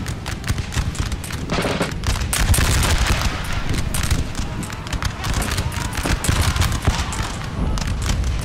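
Massed musket volleys in the Napoleon: Total War strategy game, dense crackling gunfire rolling continuously with overlapping shots and booms from a battle line, a voice talking over it.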